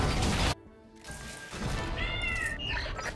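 Jingling, bell-like footsteps of the Space Groove Blitzcrank skin walking in Wild Rift, resembling a cat collar bell, with several faint tinkling chimes over game noise after a loud opening burst.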